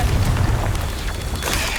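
A Confringo fire spell goes off in Hogwarts Legacy, a loud, dense booming blast with a sustained low rumble and crackling bursts, a second impact swelling near the end.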